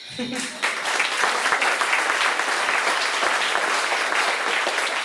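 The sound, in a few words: audience applause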